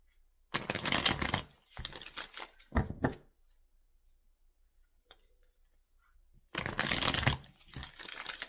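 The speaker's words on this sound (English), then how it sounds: "Let's go ahead and shuffle first" Tarot cards shuffle close up in two bursts of riffling and sliding, a few quick shuffles, then a quiet pause before another riffle, with no talking.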